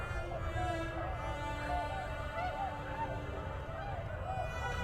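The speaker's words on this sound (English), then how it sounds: "a V of tundra swans halloo their arrival" A V of tundra swans calls in flight, a chorus of repeated wavering honks and hoots overlapping steadily at a moderate distance, over a constant low rumble.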